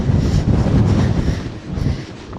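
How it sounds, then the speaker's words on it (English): Strong wind buffets the microphone on an open bridleway, a continuous loud low roar with gusty swells and no voices. "It is so windy."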